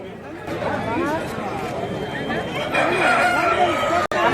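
A rooster crows amid the bustle of a weekly village poultry market, its call rising through constant crowd chatter and nearby voices talking.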